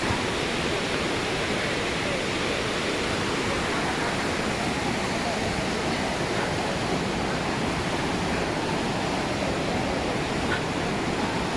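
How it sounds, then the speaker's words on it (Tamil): The Panchalinga waterfall in the Thirumoorthy hills rushes with a steady, dense, broadband roar, loud and unbroken throughout, with no pause or change in intensity. "பஞ்சலிங்க அருவி ஏறிட்டு இருக்கிறோம்."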